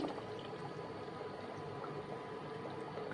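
Half a cup of milk is poured into boiling paneer curry, giving a quiet, steady bubbling and liquid wash with no talk.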